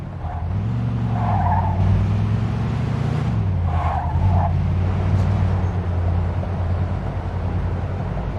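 A car in the video game Mafia II drives with a steady engine drone while tires squeal and skid in repeated bursts, loud and continuous, with no talking.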